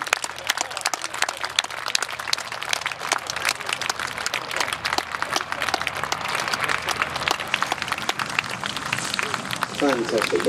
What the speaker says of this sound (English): please put your hands together and a huge round of applause for Steve Jones in his Gamebird GB1.